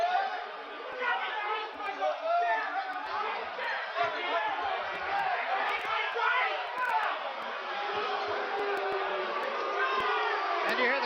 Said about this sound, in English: And you hear the crowd start to boo.